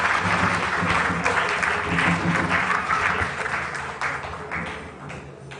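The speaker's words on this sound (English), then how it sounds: "Please, let's give them another round of applause." Crowd applause at a live World Parliament Day gathering, a full, steady clapping from many people that stays strong and then slowly thins toward the end, with some murmuring voices beneath.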